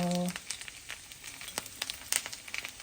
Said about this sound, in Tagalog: Itong dried squid, dapat hindi ito masyadong matagal lutuin.